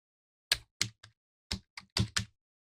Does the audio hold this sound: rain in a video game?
no